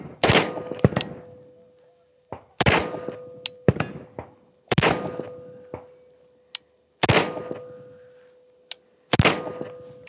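Five sharp gunshots fired at a target at a shooting range ring out at spaced intervals, each a loud close crack with a ringing tail, separated by quieter clicks and handling noises.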